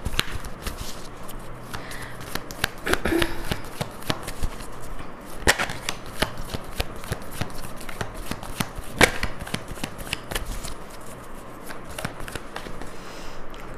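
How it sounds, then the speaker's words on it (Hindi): Tarot cards being shuffled and drawn from the deck, a close series of crisp riffles, flicks and soft slaps in irregular bursts, no talking. "चार कार्ड्स निकालूंगी मैं"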